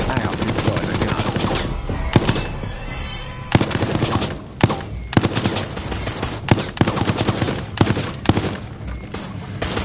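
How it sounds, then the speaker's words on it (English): A deployed gun fires in the video game Resident Evil Resistance, loud bursts of gunfire in rapid irregular volleys with sharp cracks spread throughout, over a busy game soundscape. "I have deployed a gun"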